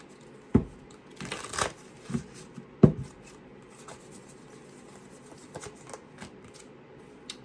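Tarot cards shuffled and handled at close range during a reading, with sharp riffling snaps and soft papery flicks in an irregular rhythm, loudest early on and then thinning into quieter scattered taps.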